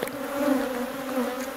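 Agitated bees swarm around an opened hive, producing a continuous, close, dense buzzing drone that holds steady throughout.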